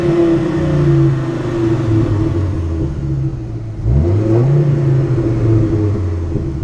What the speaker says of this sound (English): I'm gonna rev it up for you and see what, let y'all see what it sounds like.